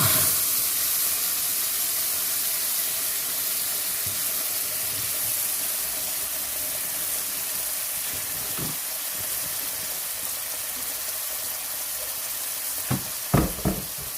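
Tomato, ginger and garlic paste goes into a hot pan for a vegetable korma, giving a loud, steady sizzle and hiss throughout, with a few soft spoon knocks toward the end.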